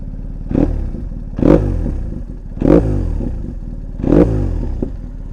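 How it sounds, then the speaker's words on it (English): A motorcycle engine with a deep, throaty aftermarket exhaust revs four times in a steady rhythm, each blip rising then settling back to a rumbling idle, close by. "This is the exhaust on it is an aftermarket exhaust, and it sounds pretty nice."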